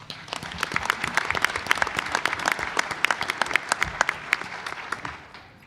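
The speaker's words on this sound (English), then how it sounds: "Please, a round of applause for them as well." An audience at a board of education meeting applauds with dense, lively clapping close by. It holds steady for about five seconds, then fades out at the end.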